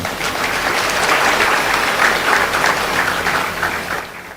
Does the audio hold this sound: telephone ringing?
no